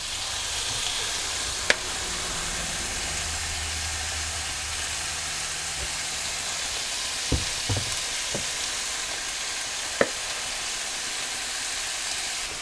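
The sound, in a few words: walleye frying in a pan with seasoning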